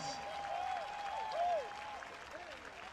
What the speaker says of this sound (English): Let's get one more giant round of applause for the athletes of the Huntsman